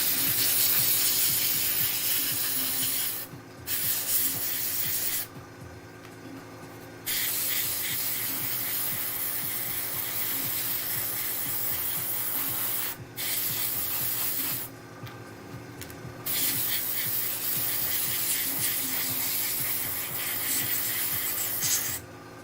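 Spraying onto parts of an Avorgo Sentry Bot model at a table: a close, loud steady hiss held in long bursts, broken by a few short pauses, with no talking.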